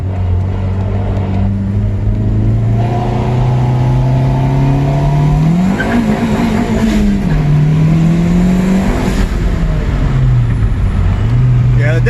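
A straight-piped Chevrolet Impala SS engine revs loudly through a quick first-gear pull, a deep rumbling tone climbing and dipping with a couple of rises, raw exhaust roar close to the microphone.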